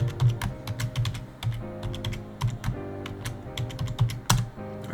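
A password is typed on a computer keyboard during SteamOS setup on a Lenovo Legion Go, with a close, steady run of clicky keystrokes in irregular quick bursts and no talking.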